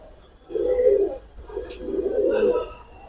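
Two low, throaty coos from Giribaz pigeons at a pigeon market, one after another, each rolling for about a second with a brief pause between, close by and fairly clear over quiet background.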